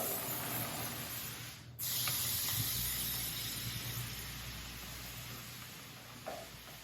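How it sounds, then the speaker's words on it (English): A sprayer hisses out a fine mist of lime sulfur onto bonsai deadwood in a continuous soft spray, pausing briefly before resuming, fairly close and quiet. "I'm just going to spray it like that evenly throughout"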